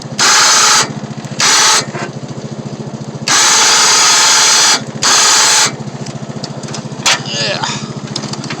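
A Harbor Freight Badlands 2500 lb winch spools its line in loud, close bursts of whining motor noise, four runs separated by short pauses, with a low mechanical hum continuing between them.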